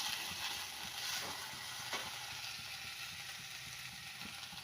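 Onion and beans frying in a pan for a Karnataka-style mixed vegetable palya, a steady close sizzle and crackle with faint stirring scrapes, no talking.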